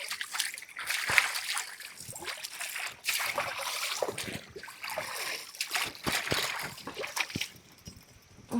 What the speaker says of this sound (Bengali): প্রথমে এই ঘ্যাটকলগুলো ভালো করে একটু ধুয়ে নিই